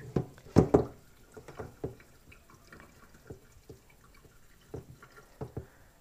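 A canister filter washcloth is rinsed under running water, giving irregular splashes and drips. They are loudest near the start, with quieter trickling and a few sharper spatters later.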